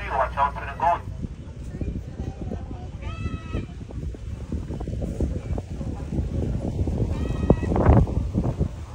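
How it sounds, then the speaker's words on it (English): Goats bleating along a roadside in the Tortola countryside, a few short wavering bleats near the start and end over a continuous engine rumble, with people talking. "Watch out for the goats."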